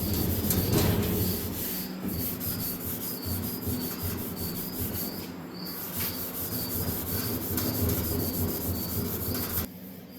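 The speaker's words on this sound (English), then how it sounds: "Use these nice little sanding pads." Scuff sanding pads rub steadily across the hood of a Farmall 706 tractor during paint prep, a continuous close scratchy scrubbing that lasts throughout, with a faint high insect-like chirping behind it.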